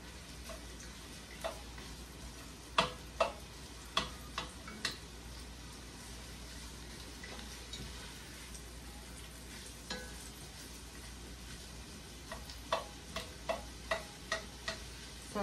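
Two small red onions frying in a hot pan, a faint steady sizzle broken by scattered sharp pops and ticks, some coming in quick runs, heard close and fairly quiet with no voices.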